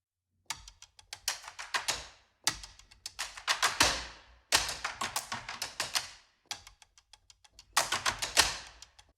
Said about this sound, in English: the clicks and clacks are super fun